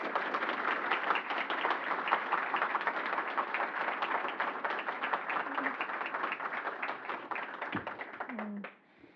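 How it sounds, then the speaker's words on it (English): An audience claps for an EU ambassador to the United States, a sustained round of many individual hand claps at moderate distance that holds steady for several seconds and then stops abruptly, followed by a brief microphone bump. "please join me in a big round of applause for Her Excellency,"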